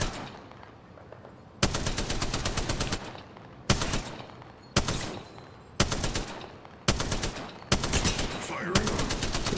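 Enemy gunfire in the video game Apex Legends, six loud rapid bursts of automatic shots separated by short pauses, close and punchy, with speech faintly beneath.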